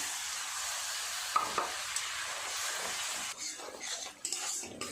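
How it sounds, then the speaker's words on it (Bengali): Spice masala cooks in a pan with a little water, a steady hiss of sautéing underneath occasional soft scrapes and taps of a stirring spoon, close and quiet. "অল্প একটু জল দিয়ে খুব ভালো করে মশলাটাকে আগে কষিয়ে নেব"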